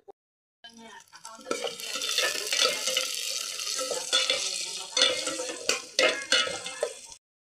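Food is stir-fried in a pan at home, with a steady hissing sizzle and clattering scrapes of a utensil stirring, growing busier with sharper knocks toward the end, then stopping abruptly.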